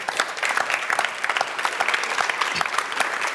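Live event audience in a hall breaking into dense, sustained applause, loud and even, with many hands clapping at once and no break.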